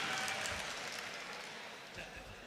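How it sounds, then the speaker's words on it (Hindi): Audience clapping at a mushaira poetry gathering, a broad crackle of many hands that fades steadily over a couple of seconds, heard from within the crowd. "अब जरा सारे मिलकर तालियां बजा दो ताकि इन्हें लगे कि मेरी बात आप तक पहुंच गई है।"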